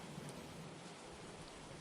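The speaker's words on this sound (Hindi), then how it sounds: "अगर इसी तरह जोर से बारिश होती रही तो हम इस घर में कैसे रह पाएंगे" Heavy rain in a Hindi cartoon falls as a steady, even hiss of dense drops, faint and continuous throughout with no talking over it.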